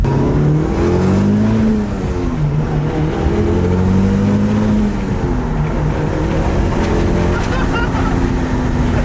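A stock rally-style car's engine drones loud and close from inside the car, its pitch rising and falling as the revs climb and ease off, with steady road rumble underneath.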